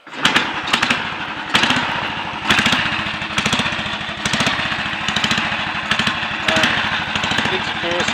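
A Royal Enfield 250 Clipper pre-unit motorcycle sits on a bike lift as its single-cylinder engine fires and runs with a steady thumping beat, loud and close, with faint voices underneath.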